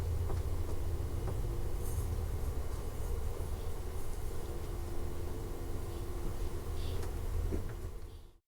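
The Amtrak Coast Starlight, running hours late and nearing San Jose station, rolls on with a continuous low rumble and faint rattles and clanks, steady throughout before fading out abruptly at the end.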